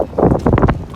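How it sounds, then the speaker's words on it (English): Strong gusts batter a phone microphone outdoors, producing loud, rumbling, choppy buffeting in quick irregular bursts over about a second. "God, it is quite windy."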